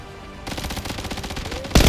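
Rapid bursts of video-game gunfire crackle densely, a steady stream of shots that swells into a loud, close blast near the end.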